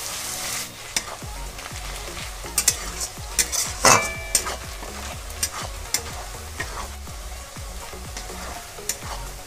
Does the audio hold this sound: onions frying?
yes